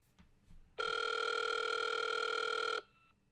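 A steady telephone ringback tone sounds for about two seconds while a call is placed, clear and alone after a few faint background noises.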